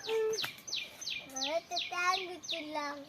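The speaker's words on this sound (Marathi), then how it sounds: "जंगलातल्या पक्ष्यांचे आवाज आहे बघा" Forest birds call repeatedly in the Konkan region of India with quick, descending chirping phrases, one after another, fairly close and clear against a quiet background.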